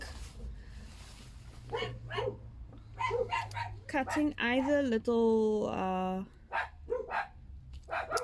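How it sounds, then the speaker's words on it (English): Dogs bark and whimper intermittently in the background while a person talks, with a few sharper yips rising briefly above the voice. "excuse my dogs"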